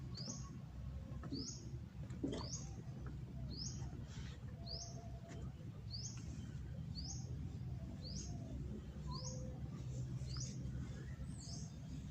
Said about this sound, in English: Oh, we got a bird.